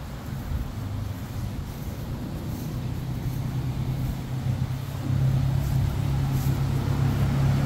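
A steady low rumble of distant road traffic blends with a constant rushing wash of a flowing river, growing slightly louder toward the end.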